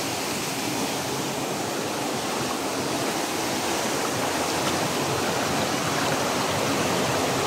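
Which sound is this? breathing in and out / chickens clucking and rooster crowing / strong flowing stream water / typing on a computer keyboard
strong flowing stream water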